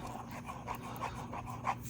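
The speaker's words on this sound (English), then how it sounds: "If you hear something in the background, that's my dog snoring." Soft, rhythmic breathing noises repeat roughly every half second against a steady low background hum, faint and close, like a dog snoring.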